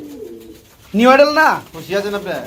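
A female pigeon coos close by, a rising-and-falling throaty call followed by a shorter second coo after a faint low murmur.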